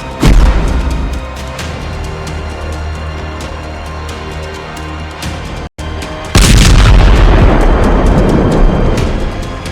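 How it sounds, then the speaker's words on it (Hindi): An ODAB-9000 aerial bomb explodes in a massive, deep roar, followed by a long rumbling boom; after a brief gap, a second loud blast erupts and thunders on. "ODAB 9000 बम का धमाका"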